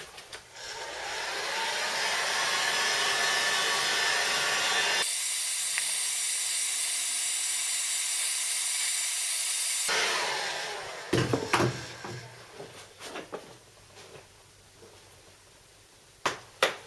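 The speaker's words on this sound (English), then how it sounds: "Just using the heat gun." Heat gun warming a plastic Vauxhall Corsa bumper on a bench: a steady loud blowing hiss that cuts out briefly and resumes, then stops, followed by scattered clicks and handling knocks.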